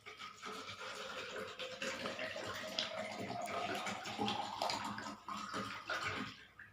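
One litre of water pours steadily into a vessel, a continuous close splashing gush lasting several seconds before it tapers off, with no talking over it.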